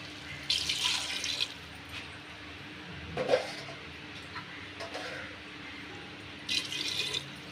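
Water being poured into a pot of mutton for a biryani cooked in a clay pot: two short bursts of splashing pouring, with faint clinks and handling noises in between, close by and moderately quiet.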